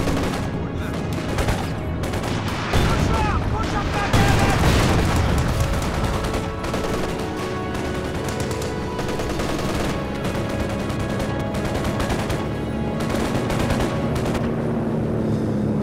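Machine gun and artillery fire in the World War II strategy game Company of Heroes 2, dense rattling bursts and heavy booms layered in a constant loud battle mix, with talk faintly underneath.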